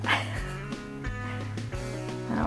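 Puppies yip and bark in a home kitchen, with several short, close barks and whimpers repeating in an uneven rhythm. A little background talk can be heard.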